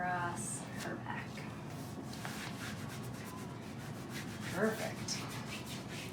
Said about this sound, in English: We just want to rub that to get the adhesive going